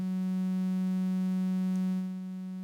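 A steady, buzzy synth oscillator tone mixing ramp and sine waves, with bright harmonics, holds evenly, then dips slightly in level near the end.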